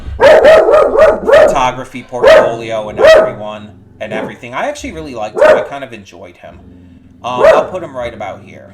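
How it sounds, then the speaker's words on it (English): A dog barks repeatedly in short bursts indoors, several quick yaps clustered near the start and again a few seconds later, sounding beneath a person talking continuously. "Sorry for the dog barking"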